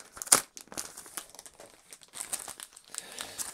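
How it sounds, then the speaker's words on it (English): Cellophane wrap crinkles and tears as it is pulled off a new Alienware X15 laptop, a close run of crisp crackling bursts with a few louder rips. "they are wrapped in cellophane, which is nice"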